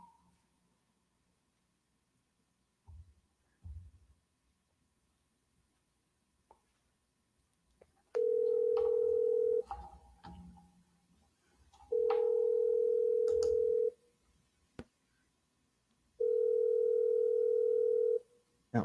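A telephone ringback tone repeats in long, loud steady bursts during an outgoing call, separated by pauses, with faint clicks and low handling noise in between.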